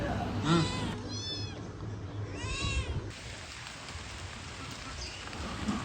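Three kittens give several thin, rising meows, two clear ones close by early on and a fainter one near the end, over a soft bed of rain.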